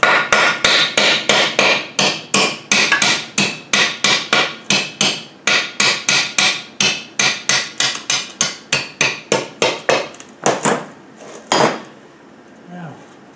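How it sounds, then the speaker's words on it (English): A hammer taps nuts fitted on the ends of gearbox studs during a strip-down, about thirty sharp metallic strikes in a fast steady rhythm, close and loud, then a few slower final blows. "I'm putting the nuts on the end of the studs just to give them a tap"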